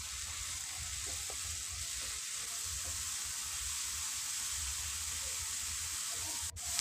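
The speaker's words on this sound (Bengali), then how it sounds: "টমেটোটা সফট হয়ে গেলে মটরশুঁটিটা দিয়ে দেব। আলুটাও দিয়ে দেব। একসঙ্গে সবগুলো ভেজে নেব।" Peas, potato and tomato fry together in a pan with a continuous, even sizzle and hiss, faint stirring taps beneath, and a brief bump just before the end.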